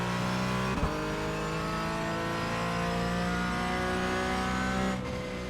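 Sim racing race car engine screams in a steady high-revving drone as it accelerates out of a corner on track, harmonics climbing gradually, loud and continuous with a brief gear-change blip near the start and end.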